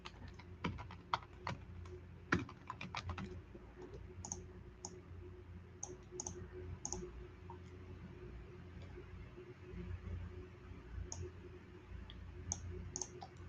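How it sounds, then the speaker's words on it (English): Fast typing on a computer keyboard produces quick, light clicks in uneven bursts with pauses between them, soft and close against a faint background hum. "I start typing too fast."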